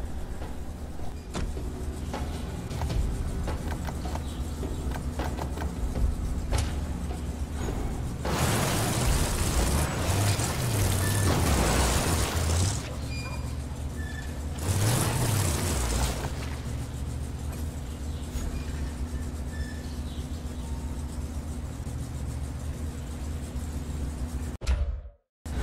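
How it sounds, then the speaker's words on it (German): A car driven in the video game Evil Dead: The Game hums steadily throughout, with two louder roaring surges of engine or impact noise midway, then cuts off abruptly at the end. "im Auto kann man auch noch rumfahren"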